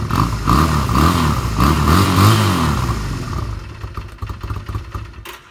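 Motorcycle engine idling roughly while warming up after a carburetor cleaning, its uneven low rumble loud and near at first, then sagging and fading as if about to die out.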